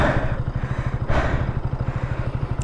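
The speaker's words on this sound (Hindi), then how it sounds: "सो फाइनली स्टार्ट हो चुकी है अपनी ड्यूक 200 बहुत मशक्क़तों के बाद में" A KTM Duke 200 single-cylinder motorcycle engine runs just after a hard start on a low battery, its close, steady thumping idle pulsing evenly for a few seconds with faint clatter and no talk.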